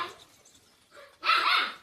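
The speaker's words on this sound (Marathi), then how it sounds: "ही आमची कुत्री आहे" A dog at home lets out one loud, close bark after a few faint whimpering sounds.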